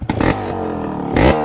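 A motorcycle engine revs in loud bursts, surging twice with a steady throaty idle rumbling between the throttle blips, close by.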